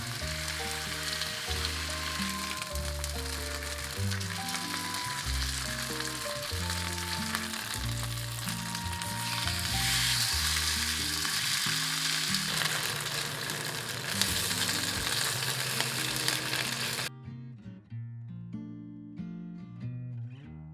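A Korean-style cabbage pancake (baechu-jeon) fries in a pan, giving a loud, continuous sizzle that runs under prominent background music throughout.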